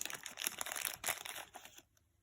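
A small pink plastic blind-box sachet being pulled open, close crinkling and tearing of thin packaging in a busy rustling burst that fades to quiet.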